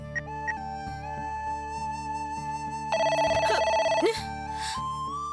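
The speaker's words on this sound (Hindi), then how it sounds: "लेकिन पता नहीं इस पे कौन फोन कर रहा है।" A home telephone rings in a steady electronic trill that swells louder for about a second near the middle, set under a sustained musical drone of a television drama.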